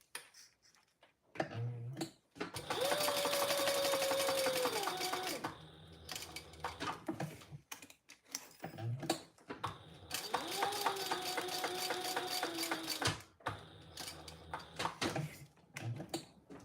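Home sewing machine running top stitching along fabric in two long steady bursts of rapid mechanical stitching, separated by short pauses with small clicks and handling sounds, close and fairly quiet.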